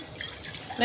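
A short splash of water pouring into a pot of rice for ghee rice, with a brief louder gush at the end.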